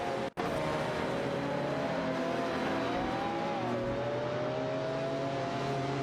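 A Ferrari F355 Berlinetta F1 and a Dodge Viper GTS ACR racing in a video game, with a sustained high engine whine that rises and falls in pitch as the cars rev and shift, loud and continuous.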